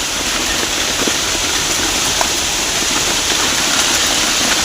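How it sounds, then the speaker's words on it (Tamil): Hail pelts down in Bangalore as a loud, continuous roar of dense impacts with occasional sharper clicks of ice striking nearby surfaces, steady throughout with no voices. "ஃபுல்லாக ஐஸ் மழை தான் வந்துட்டு இருக்கு."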